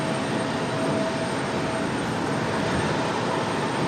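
Delta flight 1275, an airliner at Raleigh-Durham airport, produces a steady, broad jet roar with a thin whine, loud and constant throughout, with wind noise and no talk.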